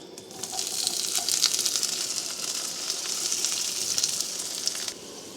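Potatoes fry in a generous amount of butter in a pan, a loud, continuous close sizzle with hissing crackle that eases off at the end.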